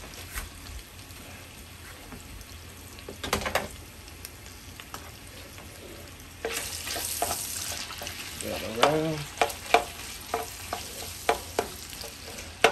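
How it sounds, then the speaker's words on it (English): Cubed pork browning in a pan for jambalaya, a steady close sizzle of frying meat, with a louder burst of crackling partway through and occasional stirring clatters. "Got a pound and a half of pork. I'm gonna brown that a little bit till it gets caramel looking color"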